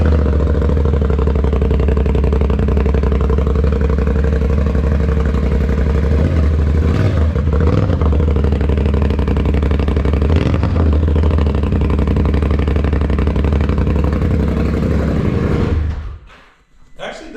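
A motorcycle with a new custom exhaust idles loud and close, a steady low burble with a couple of small throttle rises, before it shuts off near the end.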